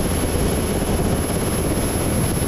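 Sikorsky S-61 series helicopter running loud and steady at close range, a continuous broadband engine and rotor roar that holds level with no voices over it.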